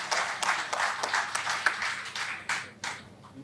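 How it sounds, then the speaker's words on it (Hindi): Steady hand clapping from an audience at a stage program event in Silvasa, moderately distant, with scattered sharper claps that continue for the whole stretch. "जोरदार तालियां।"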